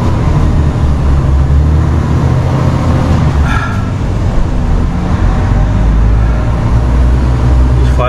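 A vehicle drives along a road with a steady, loud, continuous engine and rolling rumble, unchanging throughout, with a brief faint chirp partway through.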